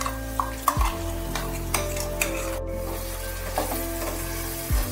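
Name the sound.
stirring ground poppy-sesame spice paste into vegetables in pan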